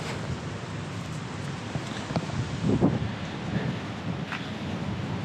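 Steady wind blowing outdoors in Patagonia near El Chaltén, a broad continuous rush with a slight gust swelling midway, no voices.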